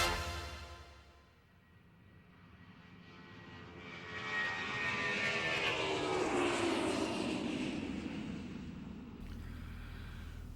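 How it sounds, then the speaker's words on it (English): A Ford Trimotor airplane's piston engines droning in flight over mountain terrain, a rough, steady roar that fades briefly then swells and sweeps past as a loud, close flyby with a falling pitch, no voices. "This Ford trimotor is a great plane for mountain flying."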